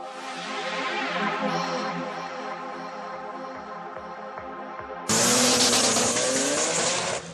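Drag racing car in a 400 metre acceleration race at Velayat Park in Iran, engine roaring steadily at high revs before a sudden louder, harsher surge as the car accelerates hard, close and dominant throughout.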